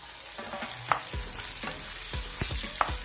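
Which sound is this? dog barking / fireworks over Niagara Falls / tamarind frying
tamarind frying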